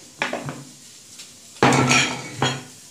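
Roasted masala spices tip into a steel mixer grinder jar with sharp metallic clinks and scraping knocks, a few separate hits followed by a louder clatter, close and fairly quiet.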